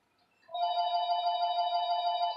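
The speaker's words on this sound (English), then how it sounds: "the phone's ringing right now." A telephone ringing indoors, a bright electronic trill that starts abruptly after half a second and holds steady and fairly loud to the end, with no talking over it.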